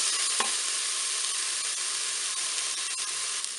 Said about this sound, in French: on va ajouter les oignons pour les faire dorer également